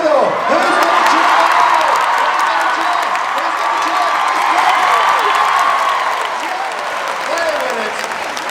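A big arena crowd at the London International Horse Show claps and cheers steadily, loud and continuous applause with scattered whoops and children's shouts mixed in, fading slightly toward the end.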